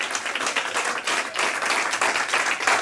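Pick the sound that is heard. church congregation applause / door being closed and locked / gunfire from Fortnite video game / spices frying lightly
church congregation applause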